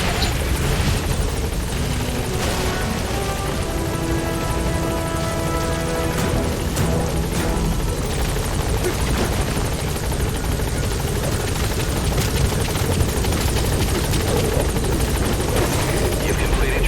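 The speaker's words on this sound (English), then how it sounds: "Support helicopter has arrived." A support helicopter in Metal Gear Solid V hovers at a landing zone, its rotor thumping and engine whining loudly and continuously throughout, with game radio voices speaking over it.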